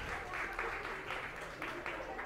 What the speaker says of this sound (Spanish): El aplauso de la gente de Toluca